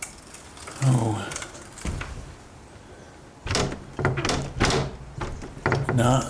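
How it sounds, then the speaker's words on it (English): Someone tries the front door of a grand old homestead abandoned in the 1970s: a few dull knocks and rattling thunks of a locked door, close by, with people talking quietly around them. "Let's see if the front door's open."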